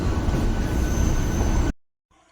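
A train runs on rails near Bandel Junction, a loud steady rumble of wheels and carriages that cuts off abruptly, with no talk.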